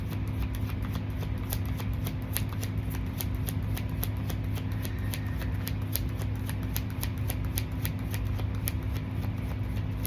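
Cards riffle and shuffle in repeated crisp bursts, one deck after another, over a loud steady hum of a furnace running nearby.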